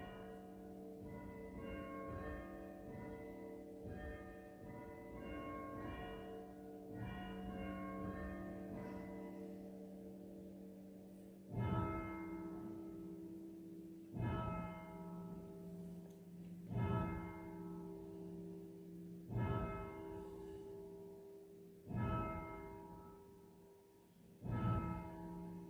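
Church bells ring for evening prayer in a slow, resonant peal, each strike blooming and fading with a long ringing tail, steady and fairly distant.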